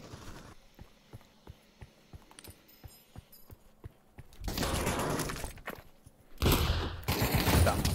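Gunfire in the Pavlov VR shooter: a run of sharp single shots spaced about every half second, followed by louder dense bursts of rapid fire, with no talk.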